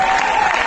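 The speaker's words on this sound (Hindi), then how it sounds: "एक बार मिलकर के तालियां बजा दो जोरदार।" An audience at a Hindi comedy show claps loudly in a brief, dense burst that holds steady and does not fade.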